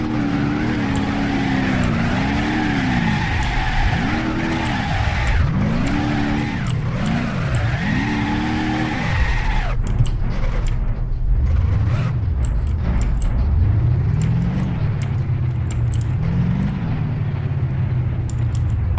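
Simulated car engine in the BeamNG.Drive driving game, revving hard and loud with rising and falling pitch as it speeds, shifting to rougher, choppier driving noise with knocks partway through; no talk.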